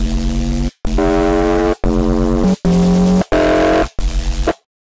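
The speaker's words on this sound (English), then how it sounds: "So let's turn on the noise and the filter." A Serum software synthesizer with its noise oscillator and filter switched on plays six loud, buzzy sustained stabs separated by short gaps, a gritty hiss layered over the tones, with each chord shifting slightly in pitch.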